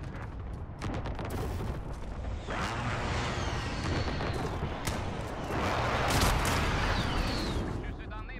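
Heavy booming airstrike explosions and bursts of gunfire roll continuously in the video game Call of Duty: Modern Warfare multiplayer, loud and dense, with a voice speaking over the barrage.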